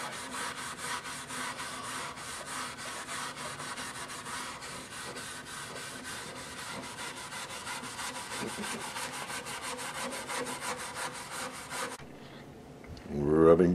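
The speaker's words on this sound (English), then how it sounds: "Rubbing compound." Rubbing compound worked by hand over the finish of a 1920s Montgomery Regal guitar, a steady rasping rub with regular strokes close by, stopping near the end.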